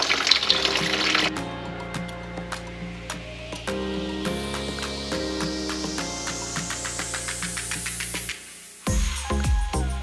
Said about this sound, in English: So let's drain the coolant.